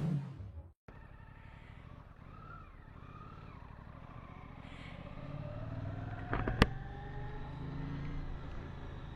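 A Suzuki GSX-8S motorcycle being ridden: a fairly quiet engine drone whose pitch rises and falls as it accelerates, with a sharp click partway through and a steady rush of wind underneath.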